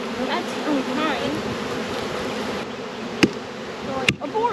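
A swarm of bees buzzes steadily and close by outdoors, a dense droning hum with a few louder buzzes passing near, while a person speaks over it.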